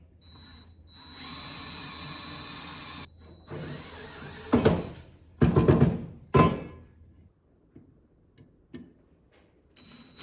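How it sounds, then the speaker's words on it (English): Power drill boring clean holes for a custom platform on a DIY slider, one steady sustained run followed by several short loud bursts of drilling with pauses, close by, no talking. "I want these to be really clean holes. So I'm gonna try not to move the bit very much."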